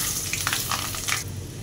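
One spoon of Bengali five-spice, a bay leaf and dried chillies hit hot oil left over from frying fish, giving a short, steady crackling sizzle with a few sharper pops.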